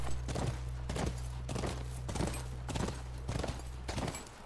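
Horse hooves clop in a steady walking rhythm in The Last of Us Part II, about eight to nine evenly spaced footfalls over a low constant hum, fairly close and moderately loud, with no talking.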